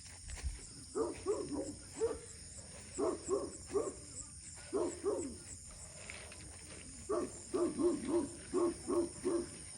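A dog barks at a night campsite in Cavinti, Laguna, repeated clusters of yelps and barks at moderate distance over a constant high insect drone.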